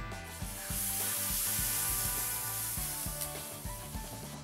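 A flour and milk sauce is stirred in a cast iron skillet, with repeated rhythmic scraping strokes of the utensil over a soft bubbling sizzle.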